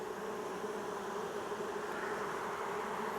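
Dense, steady buzzing of many bees around backyard hives, a continuous insect drone that stays even and moderately loud throughout, with no voices.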